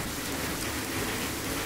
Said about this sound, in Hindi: देखिए बारिश देखिए, अल्लाह ताला की रहमत बरस रही है